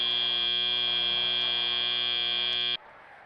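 A loud, steady electronic match-end buzzer at a FIRST Robotics Competition district event blares continuously for nearly three seconds, then cuts off abruptly, leaving faint background noise.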